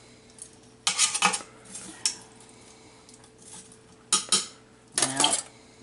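A spoon clanks and scrapes in a pot as chopped onions are mixed into pot roast ingredients, coming in several short bursts of close stirring separated by quiet pauses.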